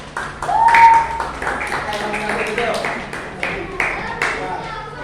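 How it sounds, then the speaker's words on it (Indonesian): Classroom clapping for a group of primary school pupils, a short run of claps heard fairly close, with a voice briefly audible early on. "tepuk tangan untuk kelompok 1"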